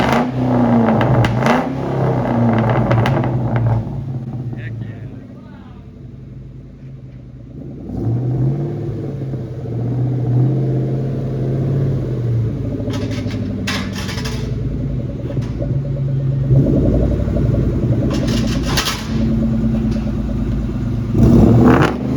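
A 2003 Ford Mustang Mach 1 V8 with a new Magnaflow exhaust starts and idles with a deep, steady rumble, rising in a few revs and settling again, loud and close throughout.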